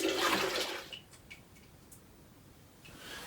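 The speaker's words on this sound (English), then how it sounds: "Very technical sparge." Hot water running and splashing during the sparge of a salted caramel chocolate milk stout brew, loud and rushing at first, then easing to a faint trickle with a few small drips before swelling again.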